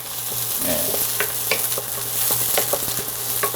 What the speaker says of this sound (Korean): 파를 먼저 볶으면 이게 파향이 나서 좀